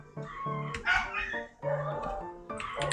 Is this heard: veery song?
no